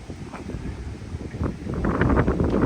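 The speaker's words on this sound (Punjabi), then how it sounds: "ਹਵਾ ਚੱਲ ਰਹੀ ਹੈ" Gusty wind blowing outdoors on a hot, humid evening, low rumbling bursts against the microphone, growing stronger toward the end.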